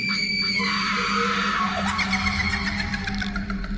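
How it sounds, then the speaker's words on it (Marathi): A long, piercing scream wails and wavers over a continuous low rumble, fading into a harsh, screeching texture toward the end. "आणि बाहेरून एक भीतीदायक किंचाळी ऐकू आली"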